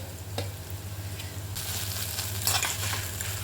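A beetroot fry with masala simmers in a pan on low heat, giving a soft, steady sizzle with faint crackles and a low hum behind it, no talking.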